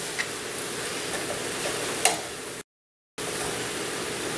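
Ground hamburger or turkey is stirred in a pan for an Asian crack slaw, giving a steady close scraping sizzle with a couple of sharp clicks, then a brief full silence before the stirring noise returns.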